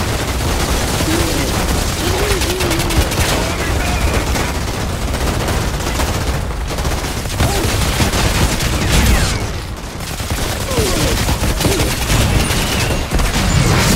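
Dense gunfire from the Outriders video game, a sustained, loud fusillade of rapid shots and automatic bursts with explosive booms, continuous for the whole stretch with faint voices mixed underneath.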